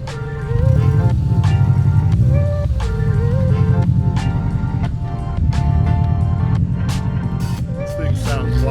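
A car idles and revs at a Denver car meet, its engine a loud, steady rumble throughout, with sharp transient bursts scattered over it.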